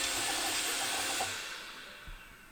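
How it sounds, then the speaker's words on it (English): An Ankermake M5 3D printer in a DIY enclosure powers down, its steady airy fan whir holding briefly before fading gradually as it spins down, close and alone with no talking. "Alexa, turn off printer."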